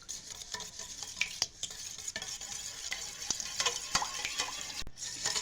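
Pan pitha batter of milk and soybean oil being whisked in a bowl, with quick repeated scraping and tapping strokes that keep a steady busy rhythm, close by and without talk.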